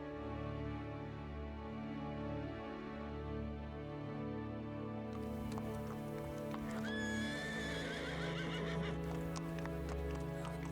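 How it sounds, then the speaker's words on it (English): Wild Mustang horses in open Wyoming rangeland neigh and whinny over steady clip-clop of hooves, with a rising, warbling neigh standing out near the end against a constant background bed. "Visitors to the area can observe the Mustangs in their natural environment, often grazing or roaming across the open landscape"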